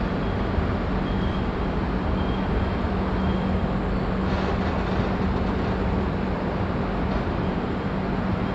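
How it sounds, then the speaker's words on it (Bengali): An express train pulls into Khurda Road Junction at night, heard as a steady, loud rumble throughout, with faint tones briefly above it. "রাত 1:57 ট্রেন এসে পৌঁছালো খুর্দা রোড জাংশন।"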